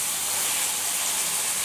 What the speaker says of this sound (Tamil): கத்திரிக்காய் சேர்த்துட்டு இந்த எண்ணெயிலேயே கொஞ்சம் நேரத்துக்கு கத்திரிக்காவை நல்லா வதக்கிடலாம்